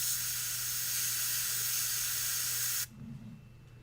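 An airbrush sprays red ink onto a Necron Overlord miniature, giving a close, steady hiss for nearly three seconds before it cuts off abruptly, leaving only a faint room murmur.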